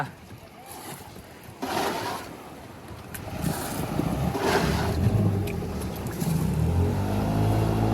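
A small fibre fishing boat's engine is started in the morning and settles into a steady running drone, with wind buffeting the microphone and a few voices talking over it.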